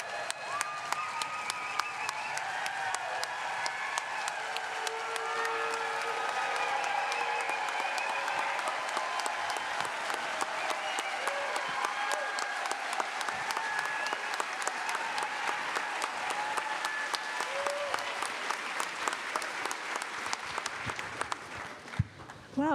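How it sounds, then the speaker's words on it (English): A packed house applauds steadily for Illinois Governor J.B. Pritzker at a festival talk, dense sustained clapping with a few whoops, holding strong for over twenty seconds before tapering off at the end. "Let's give a giant round of applause to the final speaker for Idea Fest, Illinois Governor J.B."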